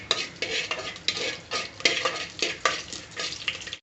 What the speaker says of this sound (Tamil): இது எல்லாத்தையும் போட்டு நல்லா வதக்கிக்கோங்க.